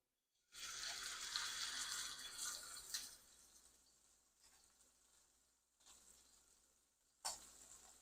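A steak hits a hot cast iron skillet with a loud, bright sizzle that swells at once, then settles into a steadier, quieter hiss, with a brief sharp flare of spattering near the end.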